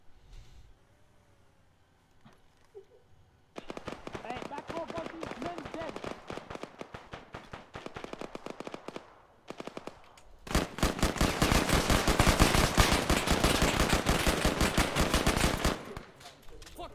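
Automatic and rapid gunfire in Call of Duty, with a quiet opening, then a long burst of dense machine-gun fire, a short pause, and an even louder, sustained volley.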